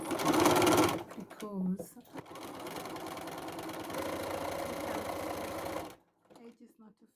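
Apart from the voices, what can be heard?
sewing machine zigzag stitching a bag lining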